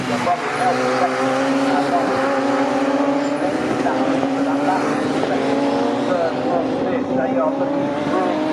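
Radical Cup race cars roar along the Bentley straight and through the Brundle Nelson section at Snetterton circuit, a loud sustained engine drone with shifting pitch as several cars run close together, a commentator talking over it.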